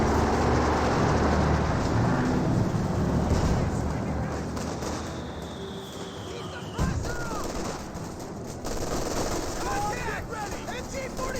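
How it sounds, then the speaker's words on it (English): Tank and artillery fire from the video game Company of Heroes 2, a Sherman tank among the combatants, rumbles as dense continuous battle noise with booming impacts and a sharp blast near the middle, joined by a commentator's voice. "Relatively fresh rifleman squad advancing with the Grenadiers now receiving a massive hit there from the Sherman tank"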